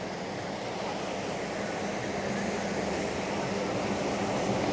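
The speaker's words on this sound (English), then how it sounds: "Waves building at the back" Ocean surf rolls in during an inflatable rescue boat championship race, a steady broad wash of waves with wind noise, even and continuous without any talk.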